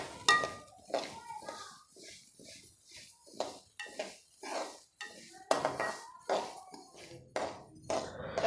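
Flax seeds being dry-roasted and stirred in a pan, with repeated scraping and clinking of a utensil against the metal in uneven strokes at close range, under a few faint voices.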